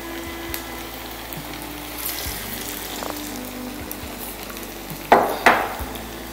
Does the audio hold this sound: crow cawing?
no